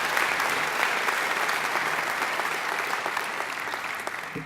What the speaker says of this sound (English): I think they need a great round of applause too.